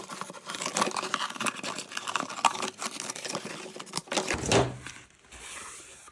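Scissors cutting a shoe shape out of paper: soft, irregular snipping and rustling of paper close by, with a brief louder crinkle near the end, no talking.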